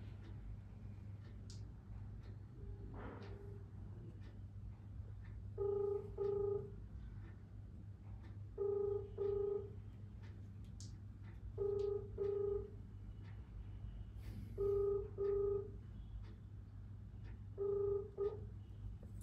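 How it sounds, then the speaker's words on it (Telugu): A phone call being placed: faint keypad tones, then five evenly spaced pairs of ringback tones over a low steady hum. "ఆ దెబ్బలు తిన అబ్బాయితో ఒకసారి మనం ఫోన్లో మాట్లాడదాం"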